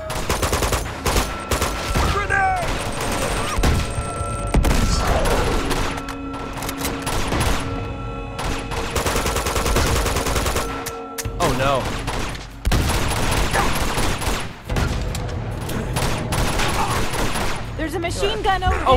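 Dense machine gun and fusillade fire in Uncharted 2: Among Thieves, loud and nearly continuous with bursts and booms throughout, under a player's excited talk.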